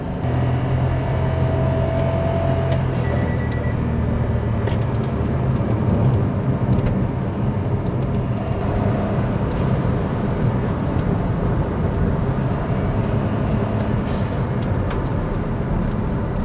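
A tuned Kia Morning turbo drives on a race circuit with a continuous loud engine drone, heard as if from inside the car. The pitch holds fairly steady, with slight rises, and no one speaks.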